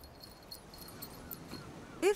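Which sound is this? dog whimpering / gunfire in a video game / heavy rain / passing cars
dog whimpering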